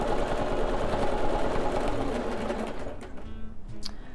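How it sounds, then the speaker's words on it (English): A sewing machine runs continuously while stitching a collage quilt, a dense fast whirring hum that carries steadily for about three seconds, then slows and stops into a few soft mechanical clicks, close with no talk. "We're gonna make a couple locking stitches."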